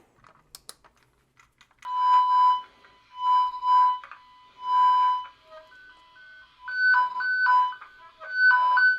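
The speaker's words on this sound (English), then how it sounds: "this is a toner. It's just going to make a sound" A Fluke Pro3000 wire tracer toner: an electronic warbling tone pulses on and off in repeated bursts, alternating pitch, preceded by a few faint clicks; no voices.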